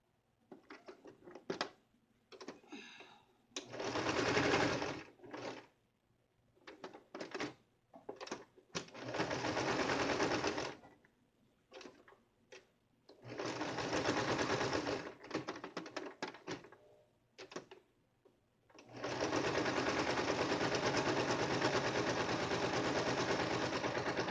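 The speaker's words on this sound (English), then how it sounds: "Just sew along the line of the pattern to get the shape." A sewing machine stitching a cloth pad along a pattern line, with rapid mechanical whirring bursts of several seconds separated by pauses and short clicky starts, close and clear with no talk.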